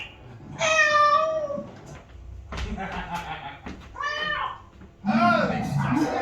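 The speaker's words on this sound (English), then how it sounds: "Oh, it's just a cat." A cat meowing on a live theatre stage during a London musical performance, with several drawn-out, wavering meows, nearby and fairly loud, alternating with short voiced sounds and stage noise.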